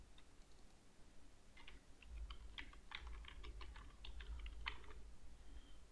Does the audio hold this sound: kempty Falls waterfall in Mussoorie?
no